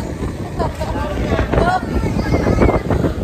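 Strong sea wind at a beach at night buffets the microphone in a constant low roar, with a voice partly audible underneath.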